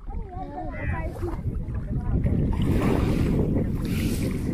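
Small boat moving across open water, a steady rushing wash and wind buffeting the microphone, growing louder partway through, with people talking over it.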